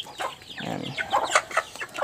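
Chickens cluck nearby in short, uneven bursts, with a low throaty murmur followed by sharper, scattered clucks.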